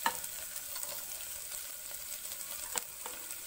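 Chopped carrots and beans frying with golden onions in a pan for paneer pulao, a soft steady sizzle with occasional light scrapes of stirring, quiet and close.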